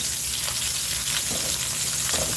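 A pan sauce sizzles and spatters steadily in a hot pan where chicken was browned, a continuous close crackle with small bursts of popping and no voices.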